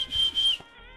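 A single attempted whistle, a fairly loud steady tone held for about half a second before breaking off, then quiet.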